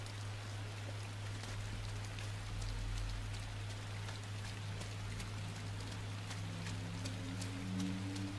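Rain falls steadily in the video game Inside, a continuous soft patter of drops with a low hum beneath, even in level and with no voices.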